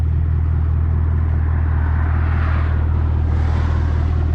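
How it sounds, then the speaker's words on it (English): 2021 Camaro 2SS 1LE with an AWE axle-back exhaust gives a loud, steady, deep rumble up close, with a slight rise in intensity near the end. "You can hear that AWE Axleback."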